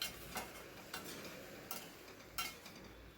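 Pre-fried prawns stirred back into a spice paste in a pan: four soft, evenly spaced scraping strokes over a faint, low sizzle, quiet and close with no voices.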